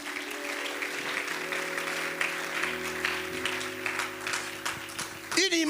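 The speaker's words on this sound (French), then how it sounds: "Acclame pour le Seigneur." A church congregation applauds during a sermon, with sustained clapping over steady musical tones and a voice rising briefly at the end.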